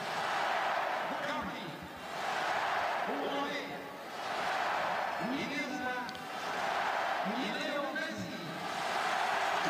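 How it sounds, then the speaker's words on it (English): Big stadium crowd at an FC Barcelona versus Juventus football match swelling into a sustained roar and cheering at the announcement of Lionel Messi, dense and continuous, rising and falling in waves, with talk mixed in. "Big cheer for Lionel Messi as his name's read out"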